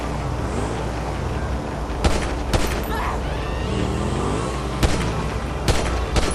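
Gunfire in a GTA driving game aimed at a car, a series of sharp game gunshots over a steady engine and ambient bed, with players talking at times.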